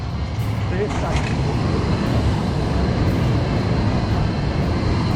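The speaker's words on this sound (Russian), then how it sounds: "Сейчас трамвай проедет." A tram rumbles past nearby on a street in Poznań, Poland, a steady low rolling roar with metallic rail noise and faint voices around it.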